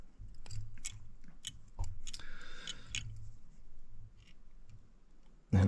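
Scissors snip repeatedly through a small chunk of yellow marabou feather at a fly-tying bench, with crisp, close cuts spaced irregularly across the stretch and a louder knock right at the end.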